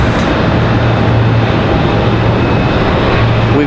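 Delta Connection CRJ jet airliner at Raleigh Durham airport, a loud, steady broadband jet roar filling the whole stretch without pause and with no talking.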